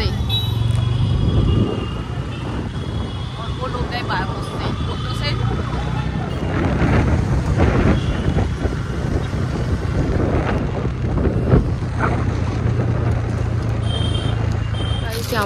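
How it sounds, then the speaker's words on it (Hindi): Motorbike ridden along busy town streets near Agra, steady engine drone mixed with strong buffeting wind noise on the microphone, with voices speaking over it and passing traffic around. "हम जा रहे हैं बाइक से।"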